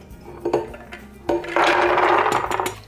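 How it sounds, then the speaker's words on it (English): Almonds tumble into a blender jar during almond milk prep, a few light clattering hits followed by a denser rattling pour that fades out, close and fairly loud with no talking. "we are just gonna dump our almonds into the blender"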